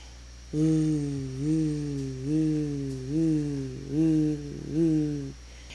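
A voice hums a low, rhythmic pulse, imitating a heartbeat throb in the ear, in about six swelling beats over a quiet background.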